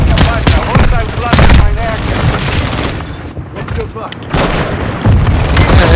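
Explosions and gunfire in a Call of Duty Modern Warfare 2 match on the Shipment map, including a grenade launcher blast, come as repeated loud booms over constant game noise while players talk throughout.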